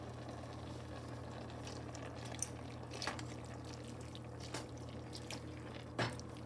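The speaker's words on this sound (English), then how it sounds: "It's starting to boil." A pot of pasta noodles and chicken comes up to a boil, giving soft, faint bubbling with a few scattered pops and drips, close and quiet, with no talk.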